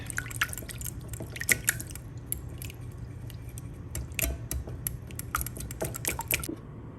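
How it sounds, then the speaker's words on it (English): A whisk works lime juice and lime zest into a batter in a bowl, making quick, irregular clicking taps against the bowl over soft wet squishing for about six seconds without talk. "And just give this a good whisk."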